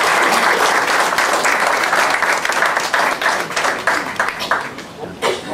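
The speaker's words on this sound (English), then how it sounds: "please give a round of applause" A room full of people at a Tea Party group meeting bursts into loud, close applause for a visiting U.S. senator. The clapping thins out into scattered individual claps toward the end.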